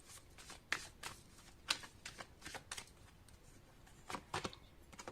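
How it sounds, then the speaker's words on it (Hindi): Tarot cards riffled and shuffled by hand in quick, crisp bursts, several sharp flicks standing out against a quiet room, with no talking. "तो एक कार्ड मैं यहाँ से निकाल लूंगी आपके लिए।"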